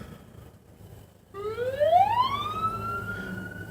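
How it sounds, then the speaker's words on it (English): An ambulance siren wails up in a rising sweep, loud and fairly close, over low traffic rumble after a quiet start, followed by a police car. "there's a ambulance followed by a cop car"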